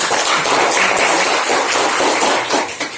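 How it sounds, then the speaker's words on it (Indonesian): A classroom applauding a student group after their presentation, dense loud clapping from many hands filling the room, tapering off near the end. "Tepuk tangan dulu buat temannya."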